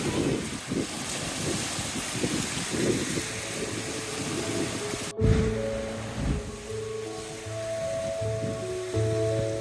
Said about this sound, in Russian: Волны прям как на море.